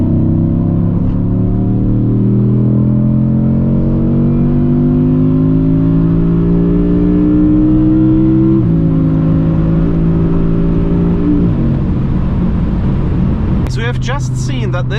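A car pulling hard from 100 to 200 km/h, loud engine drone rising steadily in pitch with one brief dip at a gear change, then settling near the end under a burst of wind noise.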